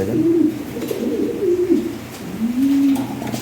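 Pigeons coo up close, a few drawn-out rolling calls in slow succession with short gaps between, loud and clear over faint background noise.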